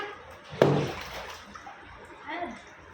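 Water spills out of a water tank with one sudden splash and slosh, then settles into softer, lingering trickling sounds, with quiet voices in the background.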